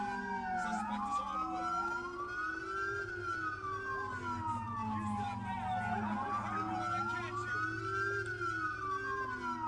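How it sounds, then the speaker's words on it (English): Police car siren in the video game GTA IV with the LCPDFR mod, wailing steadily in long rising and falling sweeps that stay loud and close throughout, over a low engine rumble, with no talking. "I'm trying to turn my siren off."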